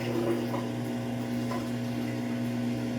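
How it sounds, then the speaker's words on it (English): Samsung AddWash washing machine draining water: a steady pump hum and rushing water drone, continuous and moderately loud throughout. "You can really hear the drain this time."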